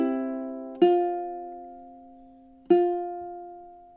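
Ukulele plays two struck chords from measure 10 of a song, each ringing out and slowly decaying, close and clean with no talking over it.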